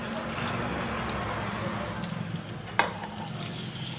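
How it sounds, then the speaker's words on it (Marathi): Onion frying in oil in a pan during a village-style spicy chicken curry preparation, a steady close sizzle running throughout with one sharp clink near the end and faint background speech. "असा कांदा भाजताना, त्यासाठी मी असं परत तेलावर परतून घेते"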